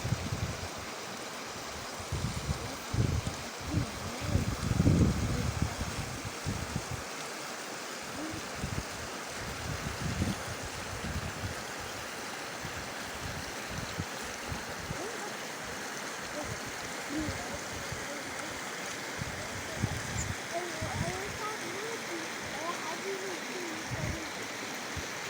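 Mountain river water flowing steadily in a green valley, a constant broad rush under gusty wind bumps and intermittent talking.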